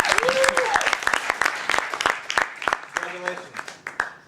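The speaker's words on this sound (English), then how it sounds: "Give her a round of applause" An audience applauds a Best Actress award winner, with sharp, uneven clapping bursts up close while a voice speaks over the applause.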